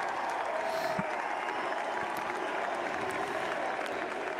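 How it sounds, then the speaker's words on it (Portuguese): Crowd at Donald Trump's presidential election victory speech applauding steadily, a dense, continuous wash of clapping and cheering at moderate distance with no pauses. "o público aplaude efusivamente"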